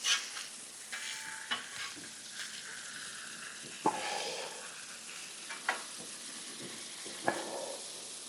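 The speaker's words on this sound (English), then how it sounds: "I definitely want to get a good fry on this bologna" Bologna slices frying in a pan, a soft continuous sizzle marked by a few sharp clicks and spatula taps spaced several seconds apart, quiet and close with no talk.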